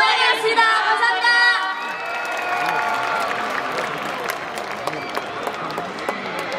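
A festival concert audience cheers and shrieks loudly, high voices dominating at first, then settling into sustained applause with scattered claps and shouts for several seconds.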